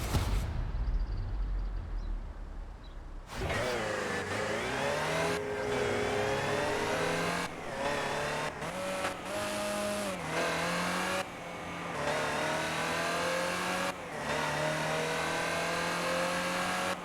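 A Land Rover Type 3 engine in Forza Horizon 4 starts up after a quiet moment, then drones and revs steadily with rising and falling pitch through gear changes, close and loud for the rest of the run.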